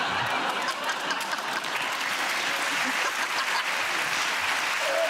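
Studio audience applause on a British comedy panel show, a dense, steady wash of many hands clapping that stays loud and even for about five seconds.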